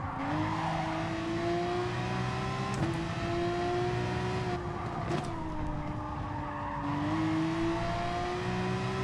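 A race car in a racing game pulls out of a corner, its engine note holding a steady droning tone that rises and dips with each throttle change, tires squealing briefly over the continuous near, loud roar.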